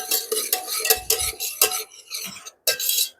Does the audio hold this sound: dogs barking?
no